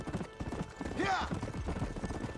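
Horse hooves clip-clopping in the Red Dead Redemption video game, a brisk rhythmic patter under excited voices, with a brief whinny-like sweep midway.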